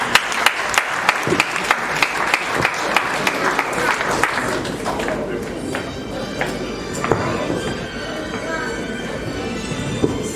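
Audience at a Kanyok community gathering in Kinshasa claps to welcome a professor, a dense burst of applause that thins into scattered claps and murmuring as a voice begins speaking.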